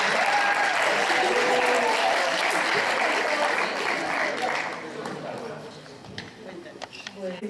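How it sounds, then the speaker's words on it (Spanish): Applause from an audience at a short-film festival closing gala, a dense steady wash of clapping that thins and fades after about five seconds, with some talk and scattered claps at the end. "Un aplauso para él."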